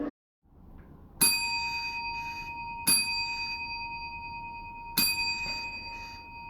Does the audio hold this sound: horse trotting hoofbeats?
no